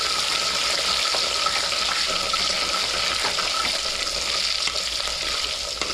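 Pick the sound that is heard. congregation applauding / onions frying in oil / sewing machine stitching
onions frying in oil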